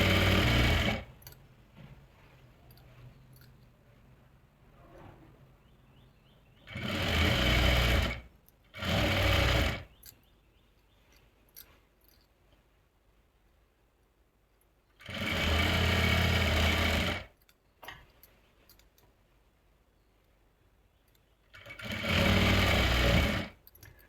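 An electric sewing machine stitching the seam of a dhoti salwar runs in four loud bursts of steady whirring, each a second or two long, separated by quiet stretches with faint handling noise.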